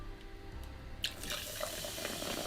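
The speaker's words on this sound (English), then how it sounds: "we'll go pour in about 120ml, 4 ounces of 7-Up or any soda or any lemonade you want to use." 7-Up soda pours into a mixing glass over ice, a steady splashing fizz that brightens partway through, close and continuous.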